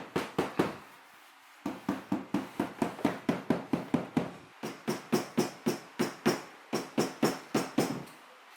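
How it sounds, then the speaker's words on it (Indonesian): A rubber mallet taps down vinyl sticker floor tiles in quick, even bursts of dull, close knocks, about three per second, with a short pause between runs and no talking. "kalau udah ditempel, dipukul-pukul pakai palu karet"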